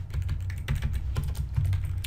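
Close, rapid typing on a computer keyboard while writing Vue.js code, a quick irregular patter of key clicks with no pauses over about two seconds.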